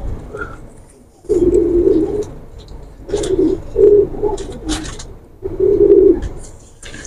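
A pigeon coos up close in several low, throaty rolling phrases separated by short pauses.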